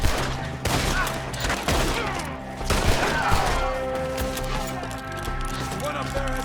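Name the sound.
gunfire in a shootout in Red Dead Redemption 2 video game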